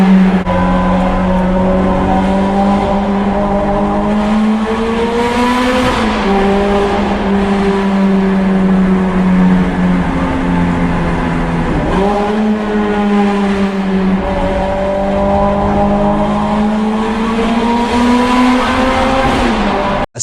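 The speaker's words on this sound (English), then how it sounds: "V8 sounds even better when ripping through a tunnel." Ferrari F430 Scuderia V8 exhaust roaring loudly through a tunnel, pulling hard through the gears with rising pitch, two sharp upshifts and echoing reverberation, no talk.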